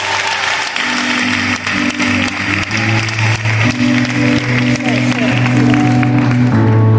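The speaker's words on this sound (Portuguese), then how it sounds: "Você pode aplaudir Jesus por isso?" Loud, steady applause from a church congregation at a women's tea gathering in Recife, sustained clapping over several seconds with sustained musical tones and voices underneath.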